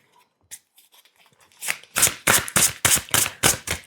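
A tarot deck is shuffled and cards are picked, starting with a few soft isolated riffles, then building into a run of loud, close, crisp rhythmic riffles about every third of a second.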